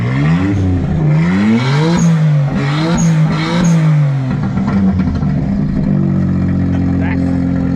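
A JDM car engine revs repeatedly in a series of throaty rising and falling blips, close and loud, then settles into a steady higher drone.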